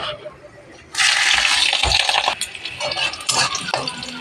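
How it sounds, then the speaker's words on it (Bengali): Green and ripe chillies drop into hot oil with a sudden loud sizzle that keeps hissing and spitting unevenly, with occasional pan clatter and no voices. "তারপরে দেবো যে কাঁচা পাকা লঙ্কা"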